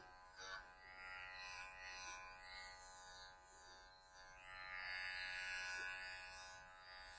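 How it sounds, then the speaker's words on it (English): Electric dog grooming clippers with a 15 reverse blade shaving a Löwchen's leg, a steady close buzzing hum that shifts slightly in pitch as the blade moves through the coat. "I'm currently shaving with a 15 reverse."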